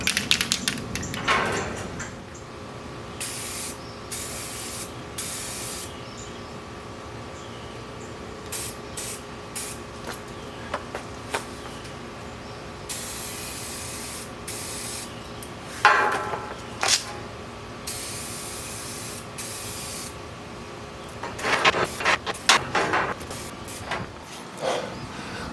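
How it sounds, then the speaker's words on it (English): Aerosol can of weld-through primer spraying onto 1/8 inch thick steel angle, several short close hissing bursts separated by pauses, over faint background hum. "I've got some weld through primer, and I'm going to use that to paint the spots on the 1/8 inch thick angle"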